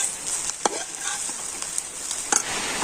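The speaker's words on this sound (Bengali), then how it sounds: "ম্যাগি মশলা দিয়ে আবারও সব কিছু কিন্তু ভালো করে নাড়াচাড়া করে নিচ্ছি" Spices and ingredients being stirred with Maggi masala in a pan, soft scraping and clinking strokes at an irregular pace over a faint sizzle, quiet and close.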